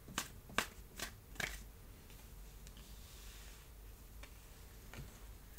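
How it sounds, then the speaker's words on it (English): Tarot cards being drawn from a deck: a few quick papery flicks and snaps close by, then quieter faint taps and rustles over a hushed room. "now I'm going to take out 3 cards"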